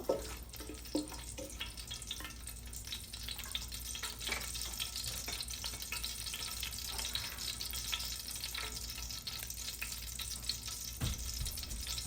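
Whole garam masala spices being stirred in hot oil in a frying pan, a steady soft sizzle with faint scraping and light clinks throughout, no talking.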